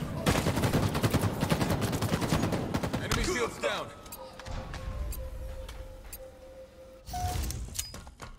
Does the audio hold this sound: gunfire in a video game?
yes